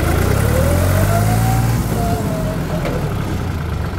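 A New Holland 3600-2 tractor engine runs in reverse gear, a loud close steady diesel drone with a faint rising whine, holding level for the whole stretch.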